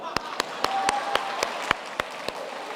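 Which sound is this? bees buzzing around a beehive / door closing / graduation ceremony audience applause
graduation ceremony audience applause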